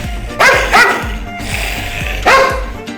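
A dog barks at close range, giving three sharp, loud woofs: two in quick succession, then a third after a short pause.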